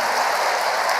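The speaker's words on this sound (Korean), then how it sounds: "그냥 박수 치고 끝내지 말고" Congregation clapping together in a church prayer meeting in Daegu, a brief dense burst of applause that stays steady throughout.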